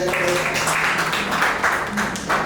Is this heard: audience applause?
yes